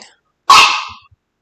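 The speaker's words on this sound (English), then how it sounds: "My dog is senile and she just won't stop barking for no reason." A single loud, close bark from an elderly, senile pet dog, a short harsh burst that trails off, with a faint breathy sound just before it.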